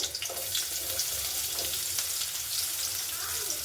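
Mustard seeds, curry leaves and onion frying in hot oil give a loud, bright, continuous crackle and sizzle that stays steady throughout, close to the listener.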